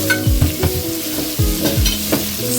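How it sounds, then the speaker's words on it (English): Shrimp and zucchini sauté in a hot pan for a zucchini noodle stir fry, with a steady sizzle and repeated clacks and scrapes of a utensil stirring against the pan, close and fairly loud. "So I'm just going to saute this for a minute."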